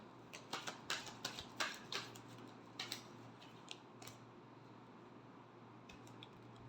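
Tarot cards are shuffled in a quick burst of soft riffling snaps and flicks, fairly faint and close, then trail off into quiet hiss.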